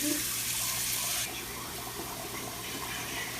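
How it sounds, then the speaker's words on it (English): Steady rushing of water pouring from a tap into an overflowing kitchen sink, loud at first and then dropping to a softer, continuous flow. "the sink is flooding."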